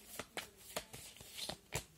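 Tarot cards shuffled by hand during an intuitive reading, quick crisp slaps and riffles in an uneven rhythm of about seven bursts, close and soft, with no voices.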